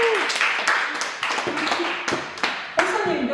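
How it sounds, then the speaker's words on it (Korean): A congregation at a Korean afternoon praise worship service claps in short, uneven bursts while voices carry on over and between the claps. "일단 박수 한번 칠게요."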